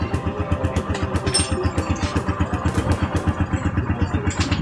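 A Rusi 150 motorcycle with a hard-starting, misfiring engine idles close by, giving a steady, loud, rapid pulsing putter with a regular beat throughout.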